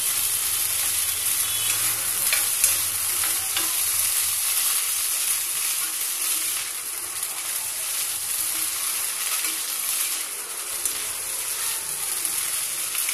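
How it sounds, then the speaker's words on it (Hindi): Onion and garlic paste fries alongside corn and mushroom in a pan, a bright, even hiss of sizzling oil with faint occasional stirring, steady and close, without speech. "प्याज लहसुन का पेस्ट, ये भी इसके साथ भुन जाएगा।"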